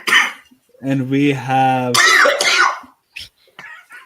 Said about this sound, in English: I just started coughing